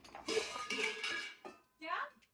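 Dishes and utensils clatter and clink at a home sink as they are washed, in bursts of metallic scraping and knocking with short pauses between them.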